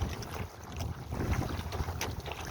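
Gusty wind buffets a canoe out on open water, rough low rumbles and bursts of microphone noise rising and falling with the gusts, with no talk over it.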